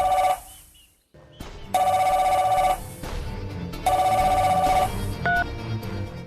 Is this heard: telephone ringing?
yes